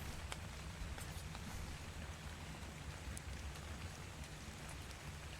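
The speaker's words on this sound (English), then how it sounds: "Sweet, it's raining." Steady rainfall in the video game Ark: Survival Evolved on The Island map, a dense even hiss of drops with faint scattered taps, continuous and soft with no talk.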